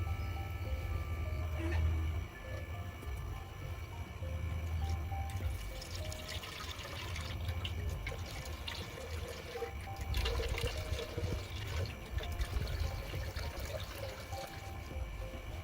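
Sunniland 1200 liquid lawn fertilizer, 16 ounces, poured out of a bottle on a hillside lawn, giving a steady gurgling, splashing flow that runs without pause.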